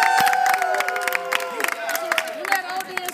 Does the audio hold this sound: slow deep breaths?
no